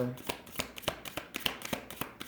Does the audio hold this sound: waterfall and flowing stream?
no